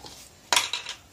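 A metal spoon clinks sharply against a pot twice in quick succession while honey is added to warm milk, close and fairly loud over a quiet background.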